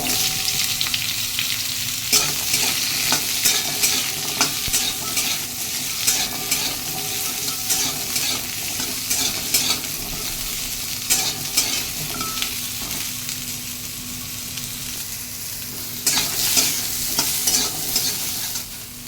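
Hog plums and mustard seeds fry in a spoonful of oil in a pan for a chutney, giving a steady close sizzle with repeated spoon-scraping strokes throughout and no talking.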